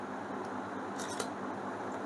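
A camera shutter clicks while taking a macro photo of a screw with a non-macro lens, a quick pair of crisp snaps over a faint steady hum.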